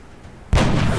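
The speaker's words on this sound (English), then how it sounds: "Takes a reaction shot." Reaction-shot gunfire in the XCOM: Enemy Within video game, heard as a single sudden, loud blast that starts partway in and leaves a heavy booming wash after a quiet lead-in.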